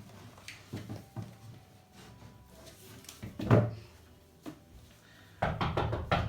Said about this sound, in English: He went to knock on Chicken Licken's door.